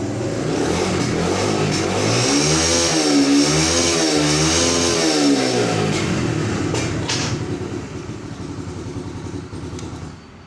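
A brand-new 125cc motorcycle engine, kick-started, running loud and close with a throbbing single-cylinder idle and a few rising revs that sweep up and down, then easing back toward a steadier idle near the end.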